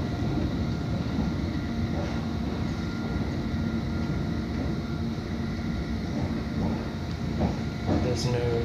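A London Underground Hammersmith and City line train pulls away from Hammersmith station, a steady loud rumble and rail drone filling the whole stretch with faint squeals near the end and no clear talk.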